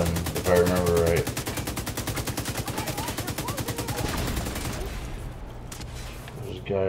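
Sustained automatic gunfire in The Division 2 rattles in a fast, even stream of shots for several seconds, loud and close, with a voice speaking briefly near the start before the firing trails off.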